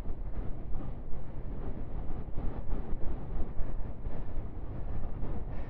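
Gusty wind on a solo bike ride, strong enough to push the parked bike, roaring and thumping against the microphone in uneven surges, close and loud throughout.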